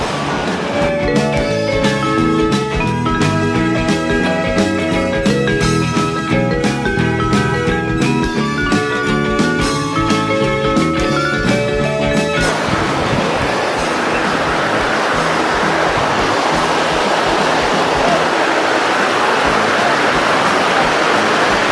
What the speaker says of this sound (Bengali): খুব জোর জলটা আসছে এইখানে ফ্লো হয়ে